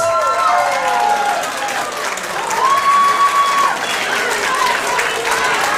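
Loud, sustained applause from a crowd at a senior men's beauty contest, dense clapping throughout with a few cheers and voices rising above it.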